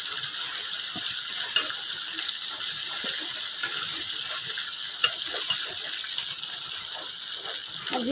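Ground ginger, garlic and cumin paste frying with onions in a pan, a dense continuous sizzle with scattered stirring scrapes and clicks throughout, close and fairly loud, no voices.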